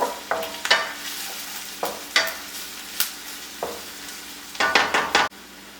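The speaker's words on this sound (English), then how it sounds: "we're just sauteing our aromatics, the garlic and the onion" Garlic and onion sauté in a pan for Filipino glass noodles, sizzling close by while a utensil scrapes and knocks against the pan in quick, uneven bursts, with no one speaking.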